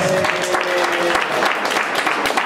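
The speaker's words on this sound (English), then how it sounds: "Give yourself a round of applause." Audience applause at a jazz and art center show, a dense, steady wash of clapping filling the room, with a faint sustained tone underneath during the first half.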